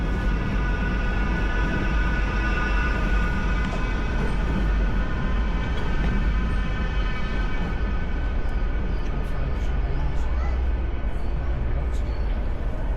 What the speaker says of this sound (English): you'll see a tram